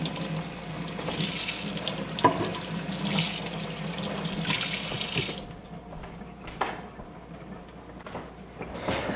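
A tap runs steadily over red cabbage heads being rinsed in a sink, a continuous splashing wash that thins out partway with a few clunks and drips.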